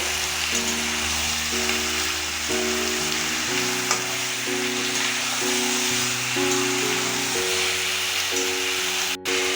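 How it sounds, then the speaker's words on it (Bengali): Chicken being mixed with ginger paste and chopped tomato in a hot pan, a steady loud sizzle under stirring, with a low background music tone and a brief click near the end, no talking. "এবার সব কিছুকে ভালোভাবে মিশিয়ে নেব"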